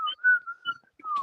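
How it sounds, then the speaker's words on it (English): A person whistles a bright, steady melodic tune in short connected phrases with brief gaps, close and clear with no talking. "Who is whistling? It's me."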